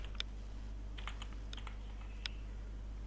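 Computer keyboard keys tapped quickly while a command is typed, with short bursts of soft clicks and brief pauses, quiet and close over a low steady hum.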